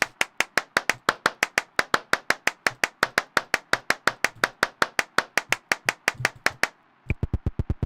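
Sharp, evenly spaced mouse clicks tap out a steady rhythm, dozens of crisp close-up clicks in a row, then a brief gap before a quicker, softer run of clicks.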